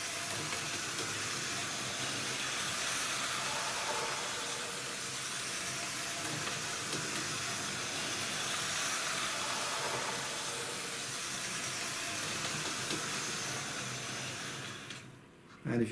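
A toy Santa's Express train runs steadily around its track, giving a continuous close whirring rumble with hiss that holds level throughout, then drops away briefly before a sharp bump at the very end.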